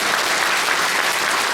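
Steady, dense applause from a church congregation gathered for an anniversary celebration in Kathmandu, loud and even throughout with no break.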